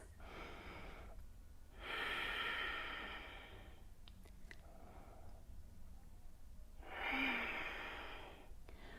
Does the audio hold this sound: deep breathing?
yes